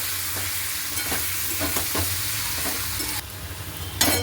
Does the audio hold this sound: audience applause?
no